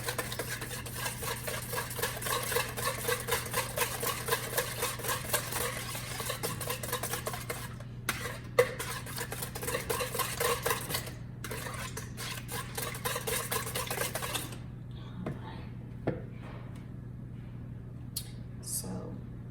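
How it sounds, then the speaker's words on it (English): French toast batter is whisked in a bowl: a fast, steady, close scraping and clinking of the whisk for about fourteen seconds, then a few stray taps, a single clank and near quiet. "We'll whisk all of this together"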